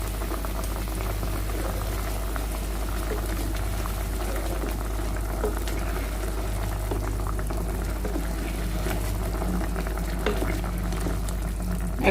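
Bread gulab jamun simmering on a low flame, likely in sugar syrup: a steady bubbling and soft popping that holds evenly throughout, close by, with a low constant hum beneath and no talking.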